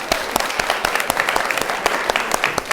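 Applause from a seated audience at a women-in-leadership talk, steady dense clapping with sharper individual claps popping out, near and fairly loud throughout.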